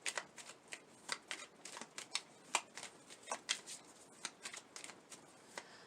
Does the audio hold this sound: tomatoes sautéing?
no